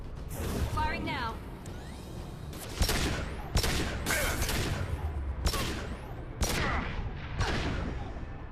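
Gunfire in the video game Mass Effect Legendary Edition: sharp shots crack out at irregular intervals over a rumbling battle background, with a voice briefly heard among them.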